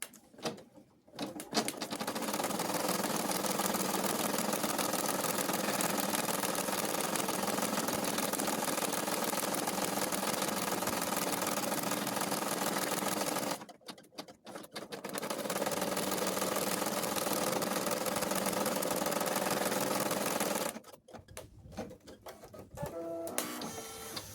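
A home embroidery machine stitches out a placement stitch for a cloth doll's leg, a dense, steady mechanical buzz running close and unbroken in two long stretches with a short pause between.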